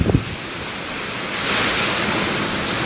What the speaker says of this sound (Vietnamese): Gió to mà mạnh quá